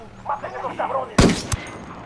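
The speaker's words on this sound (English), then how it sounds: "I'm opening fire on these shitheads." Gunfire in Ghost Recon Wildlands: a sharp close burst of shots rings out mid-clip, then a second shorter report, following quieter background game sounds and distant chatter.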